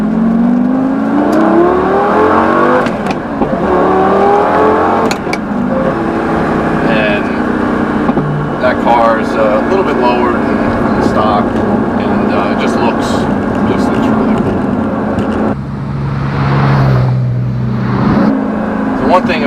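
A sports car engine drones and revs steadily while trailing a Porsche 911 Turbo, loud and close inside the cabin, with someone talking over it throughout.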